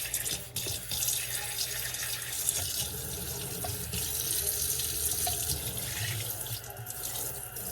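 A sink faucet with low water pressure, likely from a clogged aerator, runs in a steady, moderate trickling stream, close by and unbroken throughout, with no voices over it.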